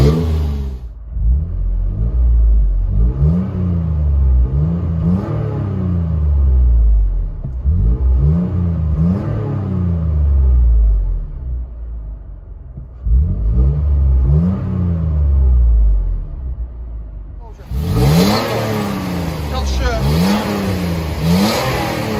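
Inside the cabin of a Toyota Tacoma with a 4.0L V6 and aftermarket exhaust, the engine drones and rises in repeated revving pulls, loud and close, with a rushing noise late on as a window opens.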